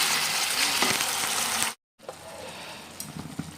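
Onion masala for a chicken dish bubbling and sizzling steadily in a pan, a dense close hiss broken by a brief silent gap, then resuming with small pops.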